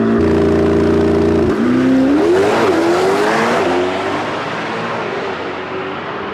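A Chevrolet Corvette ZR1X launches hard off the line at full acceleration, its engine note rising steeply through a gear change, loud and close with a broad rushing roar that fades slightly toward the end.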